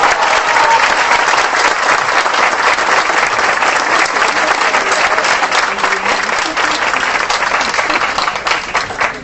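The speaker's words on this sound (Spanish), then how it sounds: "Un aplauso." Dense, sustained applause from an audience fills a university event hall, loud and continuous for several seconds before easing slightly near the end.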